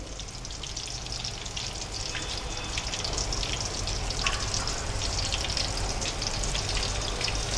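Chicken sticks fry in hot oil over a medium flame, giving a steady, dense crackling sizzle with scattered pops throughout, close by and without talk.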